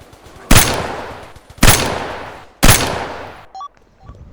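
Three loud AK assault rifle bursts in a video game ring out about a second apart, each trailing off in a sharp metallic echo, followed by faint beeps.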